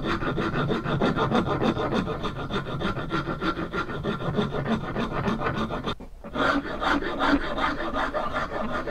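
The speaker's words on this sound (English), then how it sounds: "So I'm just going to use a rasp file and then a smoother file and a bit of sandpaper." A rasp file works a hardwood axe handle in steady back-and-forth strokes, a close coarse scraping rhythm that pauses briefly before resuming.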